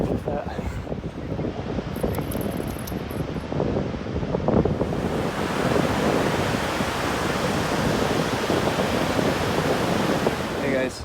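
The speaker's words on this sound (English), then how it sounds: "So I'm down on the beach here at the Pacific Coast near our campsite." Surf and wind on a Pacific coast beach at sunset near a campsite, a steady broad wash of breaking waves with wind rumble throughout, fairly close and continuous, no voices.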